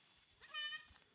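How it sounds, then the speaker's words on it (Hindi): Goats bleat while being grazed in a forest, a single short, fairly close bleat cutting above faint outdoor background noise. "ये देख सकते हैं हमारा बकरी, इन दो बच्चे बहुत क्यूट क्यूट है उसका"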